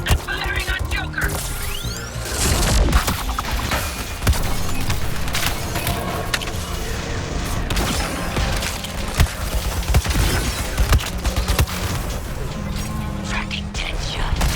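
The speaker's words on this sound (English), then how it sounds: "Firing on Joker!" Dense, continuous gunfire and crashing impacts from the Suicide Squad: Kill the Justice League video game, loud and chaotic throughout, with brief voices mixed into the clamour.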